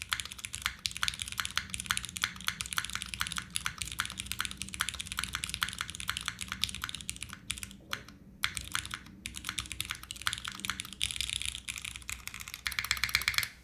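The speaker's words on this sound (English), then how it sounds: "I need to tune the space bar. I can hear a little bit of rattle." Rapid, steady typing on a mechanical keyboard, dense clacky keystrokes close up with brief pauses, continuing throughout with no talking.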